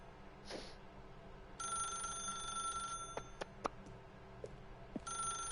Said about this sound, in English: I will not be answering the phone.